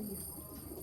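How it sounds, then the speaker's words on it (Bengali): A fancy show pigeon gives a brief, soft coo, a low throaty call lasting under a second over quiet background. "এই পায়রাগুলো খুব সুন্দর পায়রা"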